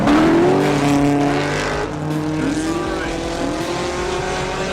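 Drift cars at the CSCS 2017 drift finals roar loudly and continuously, engines revving with rising and falling pitch as they chase, with tire noise mixed in and a commentator talking over the racket.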